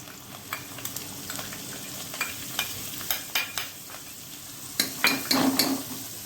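Spices and ginger-garlic paste sizzle in a hot pan while making ragda patties, with steady frying hiss broken by scattered stirring scrapes and clinks of a spoon against the pan.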